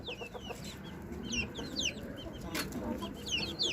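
Hens and chicks kept on a rooftop cluck steadily at close range while high, thin peeping calls repeat above them, with faint background noise and no clear talk.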